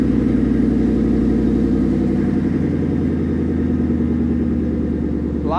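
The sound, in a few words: Coyote V8 engine in custom Ford F100 truck, cam phasers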